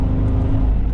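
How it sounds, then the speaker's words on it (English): Low steady engine drone from a Mercedes E55 AMG Kompressor estate, an 18-year-old supercharged wagon, heard from inside the cabin as a smooth continuous hum under road noise. "Hopefully you can hear the engine purring away in the background."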